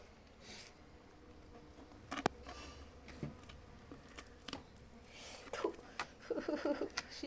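Honey bees buzz faintly and steadily nearby, with scattered taps and rustles, and the activity grows busier toward the end.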